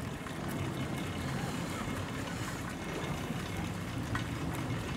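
A tour ship's engine starts its departure at the Buczyniec boat lift in Poland, running with a steady, dense low drone, loud and close, joined by wind and water noise throughout.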